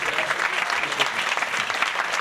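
Crowd applause at a comedy show at the Comedy Cellar, brisk, dense clapping from a packed room, loud and continuous for the whole stretch.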